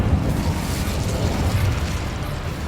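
Incendio fire spell cast in Hogwarts Legacy, a loud sustained whooshing roar of flame with low rumbling, dense and unbroken for a couple of seconds.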